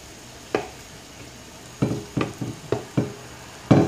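A Spanish potato tortilla of potatoes, onions and egg cooking in a frying pan, with a soft sizzle beneath a series of close, irregular scraping and tapping knocks of a utensil against the pan, no talk.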